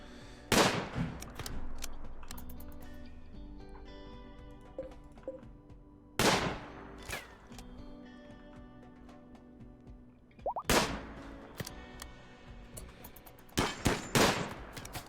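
Turrets in the RimWorld video game firing at raiders: sharp, sparse gunshot bursts in three or four clusters with ringing tails, separated by quieter stretches of low background music, no talk.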